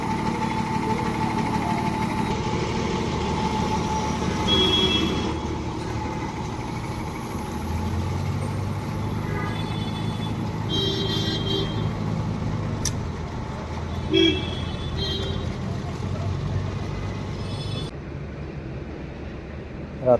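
A Kolhapur–Nanded sleeper bus engine rumbles steadily at night, a continuous low drone heard from nearby with faint background clatter and occasional voices.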